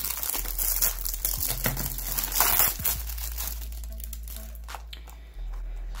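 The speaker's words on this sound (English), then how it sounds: "There is some more plastic to kind of rip off here." Plastic wrapping being ripped and peeled off the box of a NanoVNA handheld antenna analyzer, with close, continuous crinkling and tearing and a few sharper crackles.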